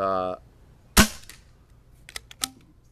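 A vintage Nelson pump action paintball gun fires a single sharp crack, followed by a few lighter clicks and taps as the pump is worked, after a brief voice at the start.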